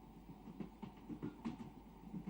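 A train runs on rails with a faint, low rumble and soft rhythmic clatter of wheels, heard quietly and steadily from inside a carriage with no talk.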